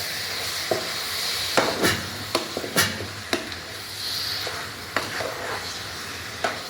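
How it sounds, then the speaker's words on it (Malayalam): Chicken pieces fry in hot coconut oil under a steady sizzle, broken by sharp scrapes and clanks as a utensil stirs the pan several times. "ഇറച്ചി എല്ലാം അതിനകത്തോട്ട് ഇടും."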